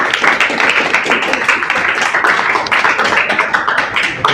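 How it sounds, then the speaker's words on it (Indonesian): Classmates applaud a presenting group in a school classroom, a dense, steady patter of many hands clapping close by for the full length without pause. "tepuk tangan dulu untuk kelompok"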